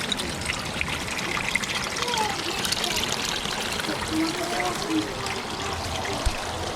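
Water trickles down a small pondless waterfall built on concrete and drains into a sump, making a continuous close splashing and dribbling with small bubbling accents that stay steady throughout.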